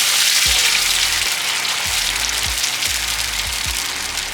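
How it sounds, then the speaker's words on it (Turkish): Tomato paste and tomato sauce sizzle in a pan for İzmir köfte. A loud, continuous, close hiss of frying carries on throughout, with a few low thumps underneath. "Birazcık salçamızı kavuruyoruz. Bir su bardağı da domates sosumuz var. Onu ilave ediyoruz."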